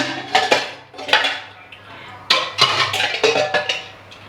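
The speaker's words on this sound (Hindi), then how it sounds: "चलिए मैं बर्तन में धोना शुरू करती हूँ।" Dishes, pots and utensils being washed in a home kitchen: repeated clattering clinks and scrapes of metal and crockery in irregular bursts, close and fairly loud, with no talking.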